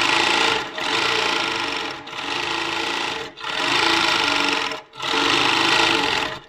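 A Handi Quilter longarm quilting machine stitching, a loud steady mechanical whir in four long runs separated by short pauses, close and without talking.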